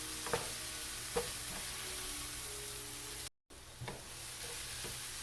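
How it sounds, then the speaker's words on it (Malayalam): Cabbage thoran being stirred in a pan over a medium flame, a low steady sizzle broken by a few soft spatula scrapes, with a brief dropout partway through. "നമ്മളിത് ചെയ്യുമ്പോൾ ഇളക്കി കൊടുത്തോണ്ടേ ഇരിക്കണം, അല്ലെങ്കിൽ ഇത് കരിഞ്ഞു പോകാൻ ചാൻസ് ഉണ്ട്."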